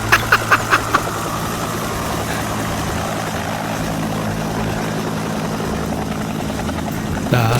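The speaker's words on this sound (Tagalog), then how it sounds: "Helicopter naman." A helicopter flying overhead above a residential area, its heavy, continuous rotor thumping and engine roar loud and close throughout, with a few sharp knocks at the start.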